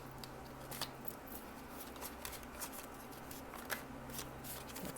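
A tarot deck, the Everyday Witch Tarot, is shuffled quietly by hand, giving a continuous soft riffle of cards with small crisp snaps and no talking.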